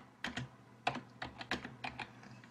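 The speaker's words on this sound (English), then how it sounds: "she's typing how do I feel about Coach E. Phil." Typing on a computer keyboard: a short run of distinct, close key taps in an irregular rhythm against a quiet room.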